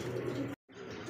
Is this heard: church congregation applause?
no